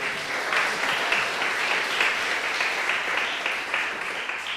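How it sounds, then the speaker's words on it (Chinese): A church congregation applauds in welcome during a Lunar New Year thanksgiving service, steady dense clapping sustained throughout at a moderate distance, with a faint voice now and then beneath it. "好来拍手来，欢迎"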